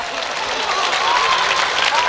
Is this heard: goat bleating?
no